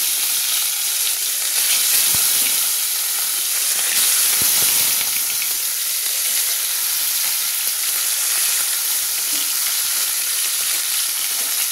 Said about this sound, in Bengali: ভাজার জন্য, একটু ভেজে নেওয়ার জন্য আমি ছেড়ে দিচ্ছি।